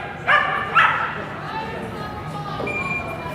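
A dog gives two sharp barks close by, then whimpers faintly against steady background noise.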